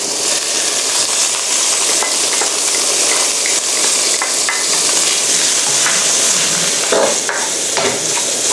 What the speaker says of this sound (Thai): พอหมูเริ่มเริ่มจะสุกนะคะ เราก็จะใส่ขิงซอยลงไปค่ะ